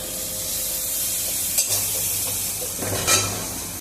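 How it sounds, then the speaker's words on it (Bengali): Ground coriander and cumin powder sizzle steadily in hot oil in a pan, with a couple of sharp stirring scrapes breaking through the constant frying hiss. "দিয়ে মশলাটা একটু কষিয়ে নেব তেল ছাড়া পর্যন্ত"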